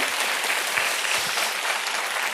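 A church congregation at a bilingual Korean-Chinese service bursts into full applause, a thick, steady wash of clapping from a large crowd filling the room.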